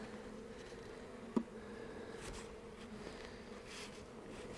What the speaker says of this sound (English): There are some bees here, but these are the bees passing through.